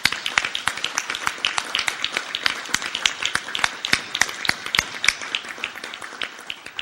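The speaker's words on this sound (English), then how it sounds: "I want a round of applause to everyone here who did such a great job this last year" A room of people at a Rotary club meeting claps in steady, crisp applause, individual hand claps distinct and close, sustained without talk.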